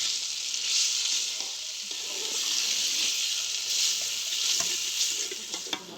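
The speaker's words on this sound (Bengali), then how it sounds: "আদা ও রসুন কষানো হয়ে গেছে" Ginger and garlic paste fry in a pan with a continuous bright sizzle, swelling and easing as it is stirred, plus small scraping clicks near the end.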